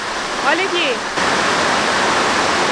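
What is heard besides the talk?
heavy rain pouring onto a balcony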